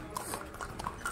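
Horses clip-clop at a viewpoint in the Matheran hill station, giving a few faint, irregular hoof clops in light rain ambience.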